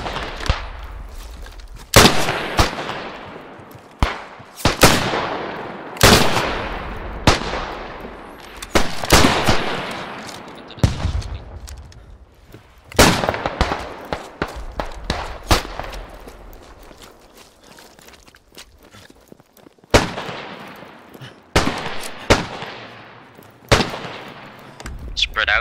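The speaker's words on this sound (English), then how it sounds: "lay down suppressive fire" Bursts of suppressive gunfire in the First World War shooter Beyond The Wire, with sharp repeated shots and rapid volleys crackling at varying distances across the whole stretch, some loud and close, others fainter, with brief lulls and players talking in between.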